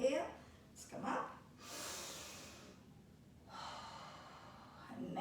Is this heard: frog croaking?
no